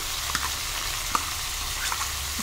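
Onion mixed with masala spices fries in a pan for aloo chhole, giving a steady close sizzle with faint crackles and occasional stirring clicks.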